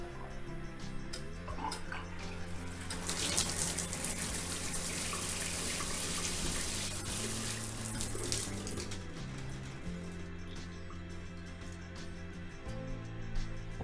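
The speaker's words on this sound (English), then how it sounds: "So we'll check that water's coming out." Water runs steadily from a shower tap, starting with spattering bursts, then settling into a constant rushing flow with a low hum beneath.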